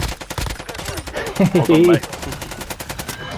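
Video game gunfire from a player running up while firing, a dense automatic burst mixed with loud voices and a short laugh.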